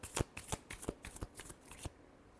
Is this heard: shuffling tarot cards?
yes